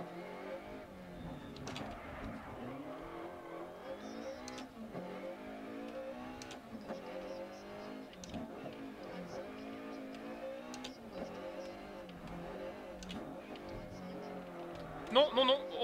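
A car engine in a racing video game revs and accelerates repeatedly, its pitch climbing and dropping in waves, with a person talking over it and a brief burst of noise near the end.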